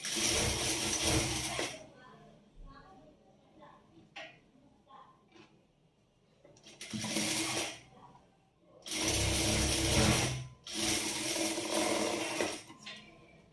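A sewing machine stitches the back part of a blouse in short loud bursts, with quiet gaps of handling between the runs of stitching.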